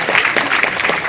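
A hotel-ballroom audience at a comedy show breaks into a short, loud burst of clapping with close, crisp hand strikes.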